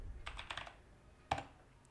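Keystrokes on a computer keyboard typing a short command: a quick cluster of close, light clicks followed after a pause by one sharper key press, with no talking.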